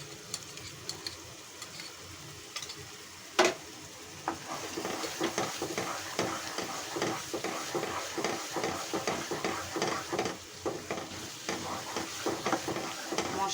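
Chicken roast masala sizzles and fries in a pan after tomato sauce is added, with steady crackling and intermittent stirring scrapes and one sharp knock.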